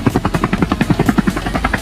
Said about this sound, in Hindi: मैं ये वाला हेलीकॉप्टर लेके ना बंदों को ढूंढने के लिए निकल जाता हूँ